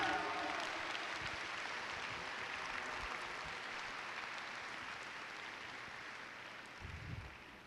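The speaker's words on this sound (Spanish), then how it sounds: "Vamos a darle ese aplauso a nuestro Padre Celestial" A church congregation applauds in a worship service, a moderate sustained wash of clapping that starts strong and slowly fades, with a brief low thump near the end.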